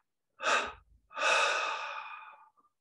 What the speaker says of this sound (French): on prend une inspiration profonde par les narines, 3 expirations par la bouche et le nez